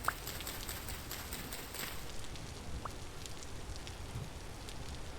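Steady rain falls in the video game Vintage Story, a dense continuous patter with occasional distinct drops, even and moderately quiet throughout.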